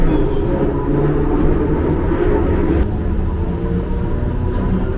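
Steady loud rumble of a Matsuyama streetcar rolling along rails toward Dogo Onsen, constant low drone with a faint clack partway through, heard from inside with no voices.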